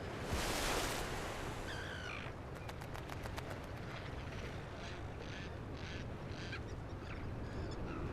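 Seabirds on a small island call repeatedly in harsh, cawing bursts over a steady wash of wind or surf, with the calls fairly faint and the birds somewhat distant.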